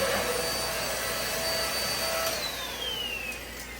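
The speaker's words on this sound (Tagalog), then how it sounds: "Vacuum lang siya." Vacuum cleaner running steadily nearby, used on an air-conditioner filter, with a continuous whining hum that holds throughout and shifts slightly in pitch.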